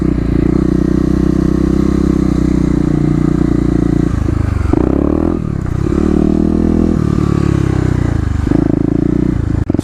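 A Kawasaki KLX250 dirt bike ridden through city streets on a cold day, its engine droning loud and steady with brief dips as the throttle eases, then pulling back up.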